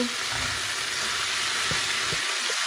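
Semi-deboned saltfish frying with onion and tomato in a pan with little oil, a loud, dense, continuous sizzle close up, with a couple of soft thuds as the food is turned over.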